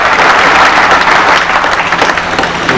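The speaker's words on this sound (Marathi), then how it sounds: "आपण टाळ्याच्या गजरात एकदा पुन्हा टाळ्या वाजवा" Audience applause at a felicitation ceremony, steady dense clapping from a large crowd filling the hall at a constant level throughout.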